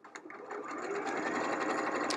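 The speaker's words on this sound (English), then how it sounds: "I'm gonna stitch down this seam real quick" A sewing machine stitches down a quilt seam at a scant quarter-inch allowance, running as a steady close whir with a quick start and no pauses.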